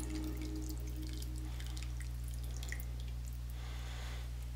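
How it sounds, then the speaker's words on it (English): Coffee trickling into a cup, a quiet steady pour with faint drips, set against a constant low electrical hum across the whole stretch. "It's just coffee I'm pouring in the background."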